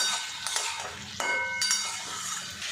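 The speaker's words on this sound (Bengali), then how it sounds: "এবার এর মধ্যে পেঁপে আর আলুটা দিয়ে দেব মশলার সাথে বেশ কিছুক্ষণ কষিয়ে নেব" Papaya and potato stir-fried with spices in a pan, a steady sizzle with spatula scrapes and stirring clinks, close and continuous.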